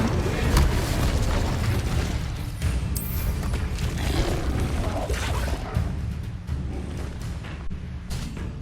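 A fire spell erupts in Hogwarts Legacy, a dense roaring burst of flame that fills the whole stretch loudly and continuously, with crackling and booming texture and no speech over it.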